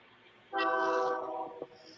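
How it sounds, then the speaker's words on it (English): A train horn sounds one sustained, fairly distant tonal blast that holds for about a second and then fades, over quiet background hum with no talking. "Ah, the train, wonderful."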